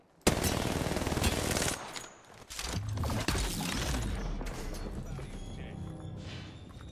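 Rapid automatic gunfire from the video game Apex Legends, loud and nearly continuous bursts with a brief pause partway through, then quieter trailing shots and game effects.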